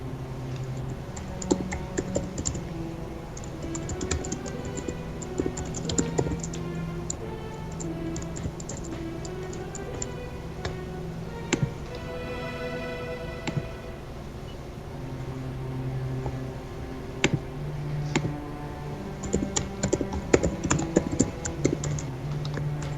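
Rapid, irregular clicks of typing on a computer keyboard run steadily throughout, close and fairly quiet, over a constant low hum of game background ambience in a Star Wars: The Old Republic scene.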